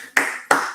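Two crisp, close hand claps played as a sound effect during an online talk show, evenly spaced about a third of a second apart, each with a short fading tail.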